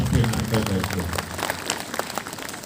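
An audience claps together at an annual church pilgrimage celebration in Jaldega, a dense burst of applause with a voice speaking over its start, then claps thinning out.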